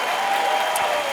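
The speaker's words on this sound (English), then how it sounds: "Can we please give Emily a big round of applause?" A studio audience on a talk show applauds: a brief burst of dense, loud clapping heard alone and without talk.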